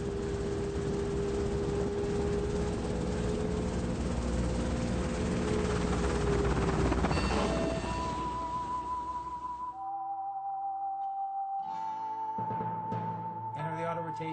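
A Robinson R22 helicopter in flight during autorotation practice, with a loud, steady engine and rotor drone heard from inside that later shifts to lower, changing tones.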